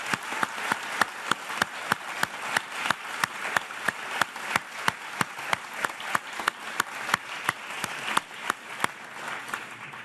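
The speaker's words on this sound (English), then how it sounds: "I want to start by giving a round of applause to these candidates." A crowd claps for city council candidates at a Mountain View candidate forum held at Google, with sharp individual claps standing out in a fairly regular rhythm over a moderate, continuous bed of applause.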